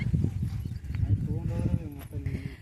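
Horse hooves clip-clop on a rural path among a moving flock of sheep, a steady patter of hoof beats close by, mixed with shuffling livestock and people talking over it.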